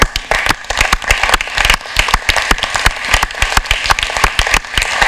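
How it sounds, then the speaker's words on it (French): Loud, sustained applause with dense, overlapping claps from an assembly honoring the children's municipal council at a plenary session, continuing evenly for several seconds. "Je vous applaudis"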